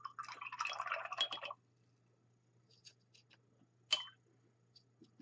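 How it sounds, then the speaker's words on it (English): A paintbrush swished and tapped in a water pot during diorama painting, a close burst of watery sloshing for about a second and a half, then quiet with a few faint drips and clicks. "we're going to wash our brush off"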